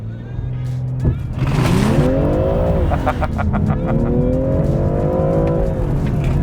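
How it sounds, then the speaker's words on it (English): BMW M340i xDrive, a 2021 G20 sedan, launching at full throttle from a standstill, its engine note rising loud and close through the gears with a brief shift dip, tire noise beneath. "Depress the brakes and press the gas pedal all the way down"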